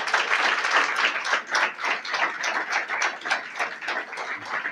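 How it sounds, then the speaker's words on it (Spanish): A church congregation claps to welcome newcomers, a lively, fairly close round of applause with distinct overlapping claps that swells and dips in loose rhythmic pulses. "Damos un aplauso al Señor por la vida de ellos"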